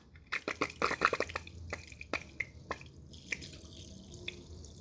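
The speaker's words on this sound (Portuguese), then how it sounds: "você deixa a mangueira aberta por 10 segundos para ela ter um fluxo de água estável" Water flows from an open garden hose before it is hooked up to a pressure washer, sputtering in irregular splashes and drips that gradually settle, close by and with no voices.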